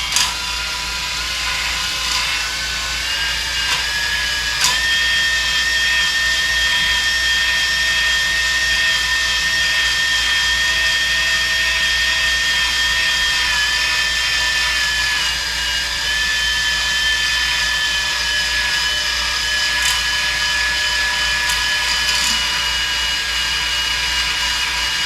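A cylinder hone spins inside an engine block, one of three engines being honed, giving a steady, loud whirring whine with a gritty grinding edge that holds for the full stretch without talk.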